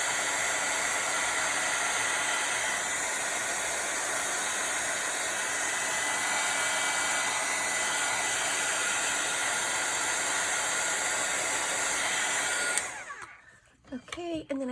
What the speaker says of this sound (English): I like to push the color from the edges inward with my heat gun.